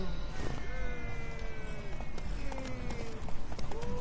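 Steady, rapid clip-clop of galloping horse hooves in The Witcher 3: Wild Hunt over a dense, noisy game soundscape, with shifting tonal sounds layered on top.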